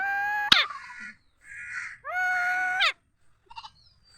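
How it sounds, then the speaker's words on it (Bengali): A goat bleats beside a road in a series of loud, wavering calls close by, with a sharp crack at the start and faint sounds between the bleats. "দেখো ছাগল"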